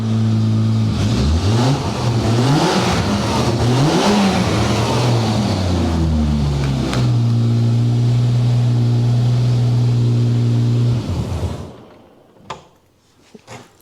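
A V12 Jaguar XJS engine, smoking after long disuse, idles, then revs up and down repeatedly with a rough, loud roar before settling into a steady idle and cutting off, followed by clunks.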